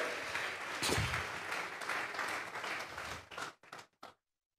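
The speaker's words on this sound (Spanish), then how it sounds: "Vamos a regalarle ofrenda de palmas al Dios de la gloria" Church congregation clapping together in a burst of applause, dense and sustained for about three and a half seconds before breaking into a few last scattered claps and stopping.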